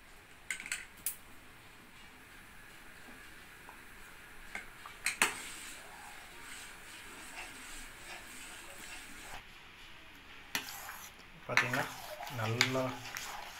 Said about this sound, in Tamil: வச்சுட்டு நல்லா கிண்டிக்கிட்டே இருங்க.